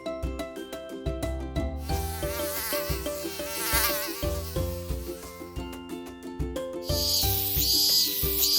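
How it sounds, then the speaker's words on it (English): A mosquito's thin, continuous buzz hums over bright, tuneful background music, staying steady throughout. "Mosquito."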